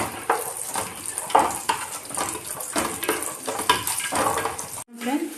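Cashews and raisins fry in ghee in a pan for carrot halwa, with a steady close sizzle punctuated by spoon scrapes and stirring clatter against the metal pan.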